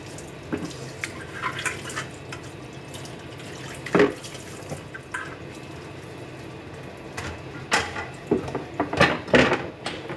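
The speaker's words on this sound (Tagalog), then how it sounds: "konti na lang tong mga hugasan ko kasi kanina pa ako na hugas." Dishes being washed at a kitchen sink, with running tap water hissing steadily under scattered clinks and knocks of plates and utensils, close by, with a louder cluster of clatters toward the end.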